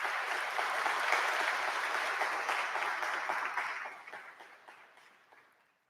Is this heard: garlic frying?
no